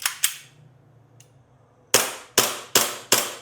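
Airsoft Glock pistol with a metal slide and polymer lower frame fired on semi-auto: two sharp close cracks, a pause with a faint click, then four evenly spaced loud shots.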